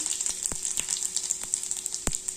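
Garlic frying in hot oil for bhindi bhaji, a steady close crackling sizzle with scattered sharp pops, no voices.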